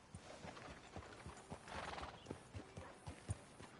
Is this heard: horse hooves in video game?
yes